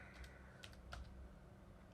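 Quiet typing on a computer keyboard, a handful of soft, irregular key clicks spread over two seconds against low room noise.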